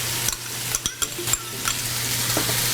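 Celery and onions sizzle in a hot pan as they are stirred, with a steady frying hiss broken by several quick scraping stirs, close and fairly quiet, with no talk.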